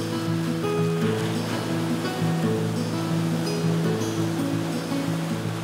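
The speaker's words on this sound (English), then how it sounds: "Waves crash on the rocks" Waves crash on rocks along the north shore of Lake Superior on a sunny day, a steady loud roar of surf and churning water with no talking, accompanied by sustained tonal hum throughout.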